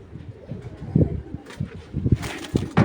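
Racing pigeons from a Bangladeshi loft coo in short, throaty bursts, with soft rustling and handling noise between the calls. A few faint voices sit in the background.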